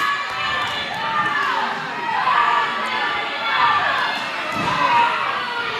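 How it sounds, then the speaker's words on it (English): Wrestling crowd chanting at a live show, a dense mass of voices rising and falling in steady waves with occasional thuds beneath, loud and continuous throughout. "Crowd chanting for Dewey"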